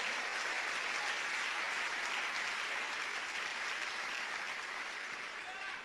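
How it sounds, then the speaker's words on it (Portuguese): Dense, steady applause from a church congregation during a sermon, a continuous wash of many hands clapping that holds evenly, fairly distant and soft throughout. "Se for para ele, você pode aplaudir."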